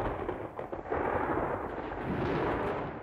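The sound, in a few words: thunder sound effect in audio drama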